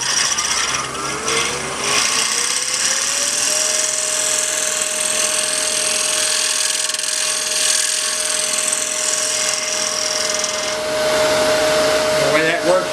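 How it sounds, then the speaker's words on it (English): Ringmaster wood lathe spinning as a turning tool rides the bevel and cuts a wooden bowl: a loud, steady whirring roar with a sustained tonal whine and scraping hiss, continuous for about thirteen seconds without speech. "I'm pulling it up like this, riding my bevel and cutting with this edge here."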